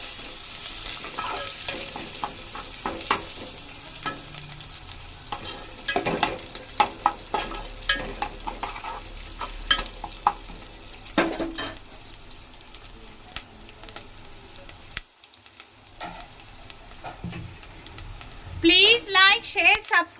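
A village-style curry of dried fish, brinjal and gongura leaves is stirred in a pan, with scraping and clinks over a constant sizzle while someone talks throughout.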